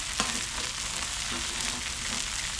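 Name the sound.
crab cakes and patty melts frying on outdoor griddle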